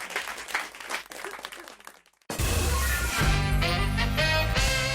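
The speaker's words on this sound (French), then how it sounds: "Allez, on vous applaudit." Studio audience applauding on a French television talk show, a loud sustained wash of clapping that bursts in abruptly after a brief hush and continues steadily to the end, with music-like tones mixed in.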